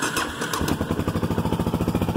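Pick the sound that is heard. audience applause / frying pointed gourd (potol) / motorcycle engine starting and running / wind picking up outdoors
motorcycle engine starting and running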